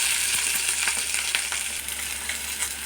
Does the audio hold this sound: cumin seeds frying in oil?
yes